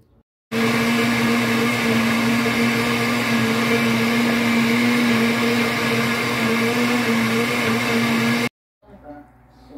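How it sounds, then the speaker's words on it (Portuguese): An electric blender whirs continuously at full speed while cashew fruit juice blends. Its loud, steady motor drone runs for about eight seconds, then cuts off abruptly, and a brief rattle follows. "já acabei de bater o suquinho aqui, ó, de caju"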